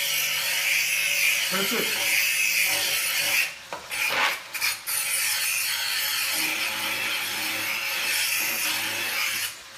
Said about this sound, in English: I just bought an electric knife sharpener.